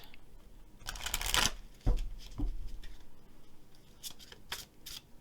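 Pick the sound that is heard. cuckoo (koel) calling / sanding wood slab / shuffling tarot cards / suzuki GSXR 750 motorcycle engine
shuffling tarot cards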